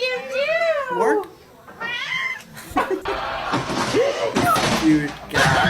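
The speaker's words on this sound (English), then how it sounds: "Cute cat." A cat meows several times in quick succession, close and fairly loud, with people talking and a thud mixed in around it.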